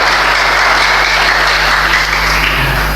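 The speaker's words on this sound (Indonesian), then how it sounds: "kotong tepuk tangan dulu untuk kotong anak-anak Pak" A church congregation claps for the children during a sermon, a loud, close, steady mass of applause over a low electrical hum, lasting about three seconds without speech.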